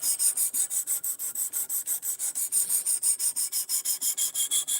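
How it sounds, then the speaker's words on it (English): Steel knife blade drawn repeatedly across a sharpening stone in a basement, a steady rhythmic rasping of about twenty quick strokes, close and clear with no talking. "Right now I'm sharpening it."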